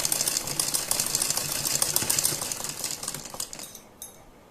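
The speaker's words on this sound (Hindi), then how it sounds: "और बिल्कुल बीच में मैं एक सिलाई लगा रही हूँ इसके" A sewing machine runs a line of stitching down the middle of a salwar hem (mohri). It makes a fast, dense mechanical chatter that stays steady and close, then eases off near the end, with no talking.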